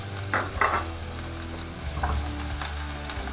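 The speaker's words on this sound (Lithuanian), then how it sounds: "čia pradžioje sudėsim kepti svogūnus" Onions frying in a pan, a close sizzle with a low hum underneath, a couple of louder spatters and stirring scrapes early on, no talk.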